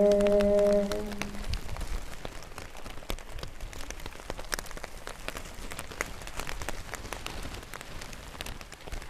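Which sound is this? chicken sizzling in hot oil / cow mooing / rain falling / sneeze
rain falling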